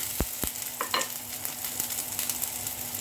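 Garlic and onion fry until golden brown, with a couple of sharp utensil clinks and scrapes against the pan at the start, then a steady close sizzling hiss.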